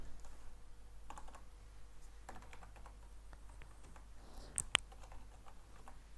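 A computer keyboard being typed on while a name is entered into an online form, a steady patter of soft, fairly close key clicks with a couple of sharper taps near the end, over a faint hum.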